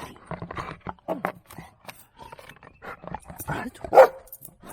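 A dog barks repeatedly at home during play, with sharp, fairly close woofs scattered across the clip, some soft whimpering and panting between them, and one louder bark near the end.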